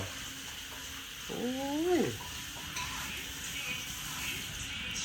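Eggs for an omelette sizzle softly in a pan at home, a low steady frying hiss with a brief rising meow-like cry partway through.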